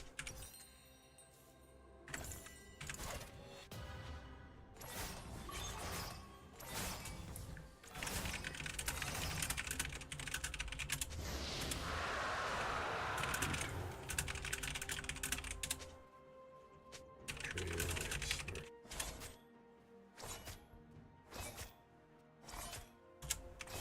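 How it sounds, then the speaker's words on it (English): Rapid clicking of a computer keyboard during a League of Legends game, irregular bursts of keystrokes close to the microphone with short pauses and a louder stretch of clatter midway. "This is on me typing."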